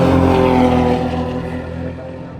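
A Mercedes engine at a track day drones loud and harmonically rich as it passes, fading gradually over a couple of seconds as the car pulls away.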